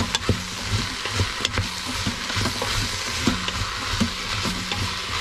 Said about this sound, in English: So I'm just going to stir that a little bit longer so that the celery is sure to pick up the flavors.